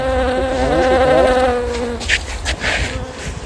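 Bumblebees buzz through a field in a close, steady, wavering drone that lasts most of the stretch, then gives way to scattered rustling near the end.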